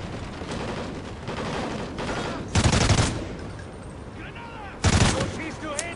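Gunfire in the first-person shooter Call of Duty: Ghosts: two loud bursts of automatic fire stand out over a continuous din of battle noise and scattered shots, with faint talk in the background.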